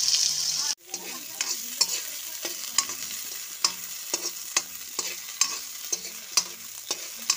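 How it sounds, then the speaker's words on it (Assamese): Chopped onions fry in hot ghee in a pan, a steady close sizzle broken by regular scraping strokes of a stirring spoon roughly every half second, with no talking. "পিঁয়াজখিনি ভাজি লৈছোঁ"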